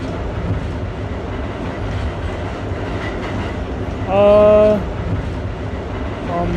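A video game subway train on a line modeled on the MTA M train rumbles steadily along the track. A brief, loud, high wheel squeal rises over the continuous running noise partway through.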